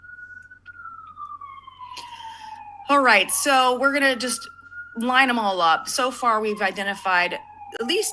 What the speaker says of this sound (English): sorry for the siren, we're in New York City.